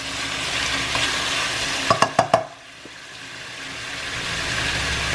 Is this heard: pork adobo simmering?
yes